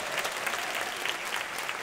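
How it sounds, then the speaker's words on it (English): Senior pageant audience giving a round of applause, a continuous, full burst of many hands clapping at moderate loudness, with no voices over it. "You can give her another round of applause"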